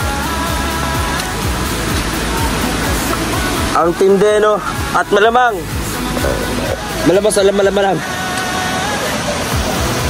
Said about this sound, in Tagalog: Ganito kapag sobrang maulan, walang tigil yung busang ulan dito.